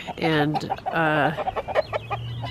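A big Dominique rooster clucking up close, several loud throaty calls and a run of shorter clucks, with someone briefly talking alongside.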